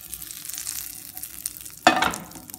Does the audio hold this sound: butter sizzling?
yes